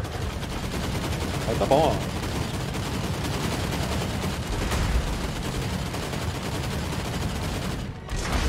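Skaven unit gunfire in Total War: Warhammer 3, a continuous crackling volley of rapid shots layered over battle noise, with one louder burst partway through; someone speaks briefly.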